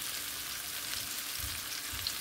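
Beef pan-fries in just a little oil for a Filipino beef and bitter melon dish, a continuous close sizzle with soft low thumps of stirring and no voices.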